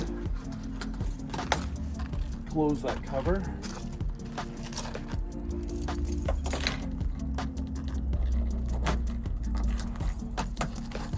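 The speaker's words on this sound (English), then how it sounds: "I've labeled my keys because I got keys that all look alike." Keys jangle in bursts of bright metallic clinking, close by, amid handling noise around a damaged truck, while a person speaks briefly.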